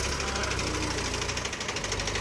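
A tractor's diesel engine chugs steadily with a rough, knocking rhythm, loud and close, continuing without pause.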